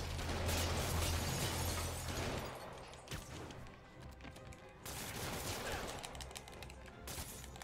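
Enemy gunfire in Spider-Man Remastered, rapid overlapping bursts with mechanical clatter and pops, fairly faint and broken into several volleys, without talk over it.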